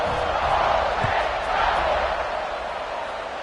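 A football stadium crowd roars in a steady, loud wash of cheering and shouting that holds for the full span, with a faint thump near the start.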